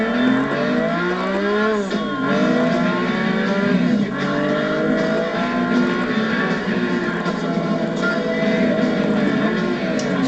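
A Ferrari 599 with the Enzo engine drives hard, its V12 revving up and down through rising and falling pitch sweeps, loud and close throughout with no talk.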